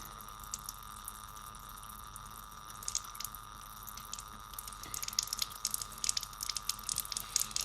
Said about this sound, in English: And then we're going to rinse it off.